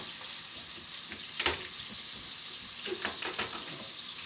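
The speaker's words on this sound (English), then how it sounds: "Now while this meat is searing, I'll move it around a little bit so it doesn't get stuck to the bottom of the pan" Meat searing in a pan for pot roast gives a steady loud sizzle throughout, with a few sharp clinks and scrapes as it is moved around, and no talking.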